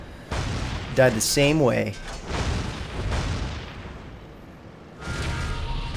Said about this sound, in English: I'm going to pitch a grenade at him again.